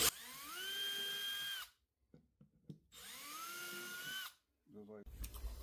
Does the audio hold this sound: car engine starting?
no